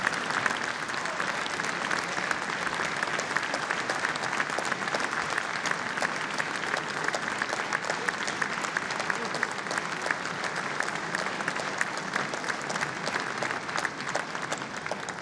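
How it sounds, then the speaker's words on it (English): Sustained, dense audience applause fills the chamber during the 2018 West Virginia State of the State Address, loud and steady throughout with no speech over it. "If y'all don't quit this clapping"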